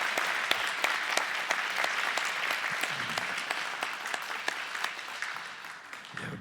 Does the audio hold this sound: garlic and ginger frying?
no